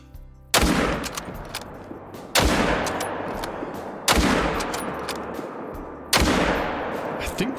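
Four loud rifle shots in the hunting game Call of the Wild, fired at deer at long range. Each is a sharp crack followed by a long rolling echo, spaced roughly two seconds apart, with no talking.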